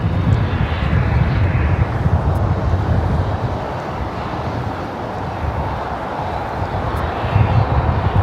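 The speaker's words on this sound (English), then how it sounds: "the Lufthansa Queen flight 456 coming in from Frankfurt" A Lufthansa Boeing 747 arriving from Frankfurt at Los Angeles airport, a loud continuous broad engine roar that holds steady and swells slightly near the end, with no voices.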